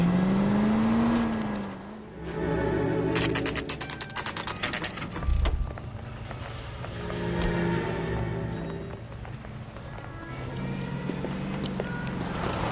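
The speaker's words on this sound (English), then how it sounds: "That's the car, Cole. Just pulling out of the drive." A car engine hums and revs as the vehicle pulls out of a driveway in the video game L.A. Noire, mixed with clicking and mechanical noises and a steady background drone.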